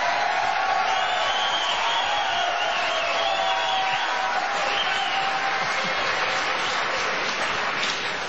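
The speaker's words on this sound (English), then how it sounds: "I never thought heroin would get applause here in South Carolina." An audience at a South Carolina political event with Governor Johnson breaks into steady applause, a dense continuous wash of clapping with some crowd noise, holding at an even level for the whole stretch.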